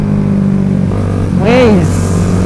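Motorcycles on a Sunday morning group ride: a steady engine drone, then a single rev rising and falling midway through, loud and close.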